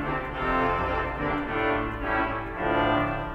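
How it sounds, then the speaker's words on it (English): A Kleintrompete reed stop sounds on a large five-manual Austin pipe organ in a church, a bright buzzy sustained chord that swells and shifts gently throughout, full and resonant with no voices. "The Kleintrompete, which we heard earlier."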